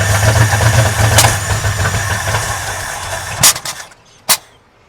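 A 1965 Ford F350 pickup with a 352 FE V8 and a freshly fixed manifold leak idles loudly and roughly up close, then shuts off, followed by a couple of sharp knocks in the quiet.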